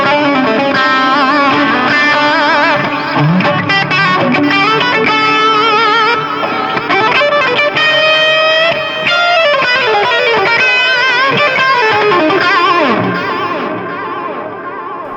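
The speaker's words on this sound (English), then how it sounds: "let's put it on reverb right now" Electric guitar played through a MOOER Echoverb pedal with the reverb mix turned way up, giving dense, sustained chords and notes that smear into a continuous washy tail, loud and steady throughout before easing slightly at the end.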